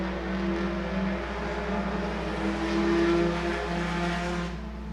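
Race cars circling Agassiz Speedway in a live race, a loud continuous engine roar with tonal drone, swelling slightly as the pack passes, heard alone.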